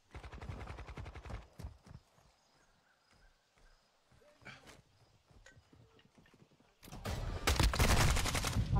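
Rapid automatic gunfire from the game Call of Duty comes in loud, fast bursts at the start and again toward the end, with scattered single shots and game noises in the quieter stretch between.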